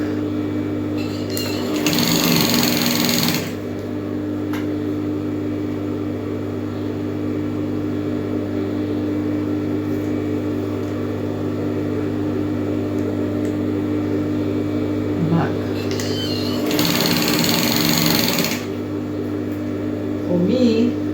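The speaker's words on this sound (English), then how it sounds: "I can just sew like that because on my machine" A sewing machine stitching a three-quarter straight skirt in two short bursts of fast whirring with a steady hum in between, close by.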